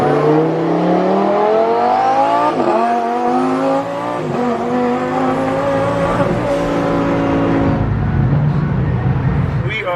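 A line of rally cars in Houston, Texas, rolls onto an interstate behind a police escort, with loud continuous engine drone that rises and falls in pitch as the vehicles accelerate, close and steady throughout.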